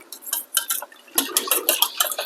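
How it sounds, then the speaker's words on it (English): A whisk clinks briskly against a bowl while mixing cornstarch into tomato sauce for lentil sloppy joes, a run of quick, close metallic taps with short pauses between strokes. "So I do prefer to whisk this together in a bowl separately and ahead of time"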